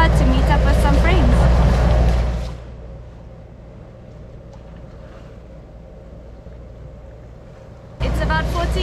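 A sailboat motoring under engine power on open ocean passage between Hiva Oa and Fatu Hiva in the Marquesas, a steady low engine drone with wind noise, loud at the start and end with quieter stretch in between.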